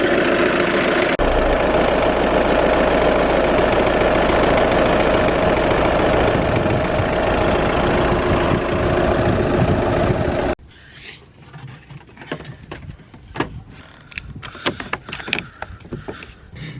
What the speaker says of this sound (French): on va réessayer de démarrer la Cupra